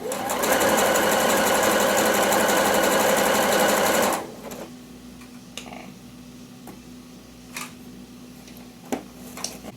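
A Pfaff sewing machine fitted with an elastic foot runs fast and steady for about four seconds while stitching elastic, then stops, leaving quiet room tone with a few faint clicks and handling taps.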